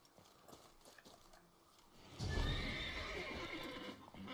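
A horse in The Witcher 3: Blood and Wine neighs loudly after a quieter stretch, with hoofbeats clip-clopping and a whinny trailing on over background noise.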